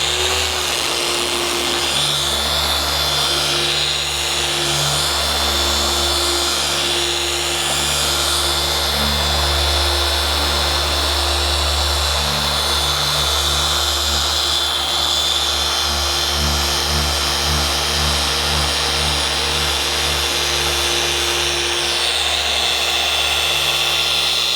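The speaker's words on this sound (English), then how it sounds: "I'm going to keep polishing and see what happens." Machine polisher with a pad working over a coated car panel, a loud steady whirring drone that runs unbroken for the whole stretch, with slight pitch wobbles as pressure shifts and no talk.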